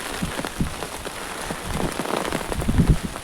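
Heavy rain with wind patters steadily on a hard surface nearby by a Konkan riverside, with dense drops and a few louder splashes close by.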